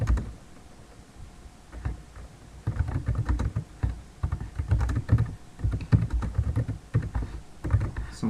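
Rapid keystrokes on a computer keyboard while entering text in a terminal editor over an SSH PuTTY session, close and steady with clustered bursts of clicks and no talking.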